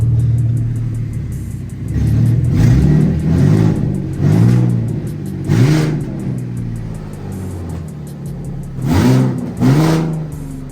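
A turbo-swapped car engine idles roughly, then is blipped in a series of short, loud revs, about six bursts that rise and fall quickly, heard up close with no talking.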